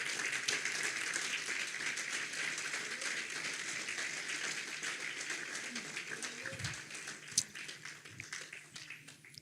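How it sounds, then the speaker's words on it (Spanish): A church congregation applauds during a sermon, a fairly faint, diffuse patter of clapping that slowly thins out, with a few louder claps and a brief sharp knock near the end. "Denle un aplauso al Señor."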